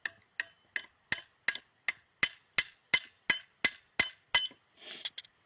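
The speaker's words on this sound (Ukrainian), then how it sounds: "Беремо цвяхи і прибиваємо." A hammer drives nails into a metal canning jar lid, about a dozen sharp, ringing strikes in an even, steady rhythm, close and clear with nothing else around them.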